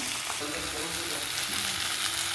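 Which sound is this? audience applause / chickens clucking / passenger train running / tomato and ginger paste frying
tomato and ginger paste frying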